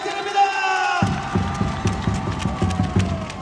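A volleyball arena crowd claps and cheers for a Korea Electric Power (KEPCO) player. Rhythmic chant-like claps come in steady bursts after a sudden start, with an announcer-style voice underneath.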